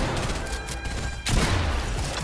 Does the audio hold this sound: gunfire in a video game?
yes